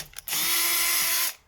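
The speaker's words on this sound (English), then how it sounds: "it's sticking out far enough that I can get my drill in there" A power drill spins a rounded-off screw that sticks out from the surface, giving one loud, close, steady whir of about a second that starts and stops abruptly, with no talking.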